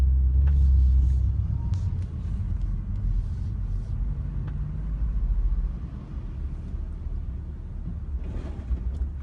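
A car whose driver forgot to put it in park rolls away, giving a heavy, low engine rumble amid traffic that is loudest at the start and then settles into a steady drone with faint higher clatter.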